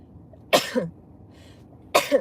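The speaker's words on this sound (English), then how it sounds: "Oh, I'm about to sneeze." Two sharp, noisy sneezes about a second and a half apart, close and fairly loud, with quiet room tone between them.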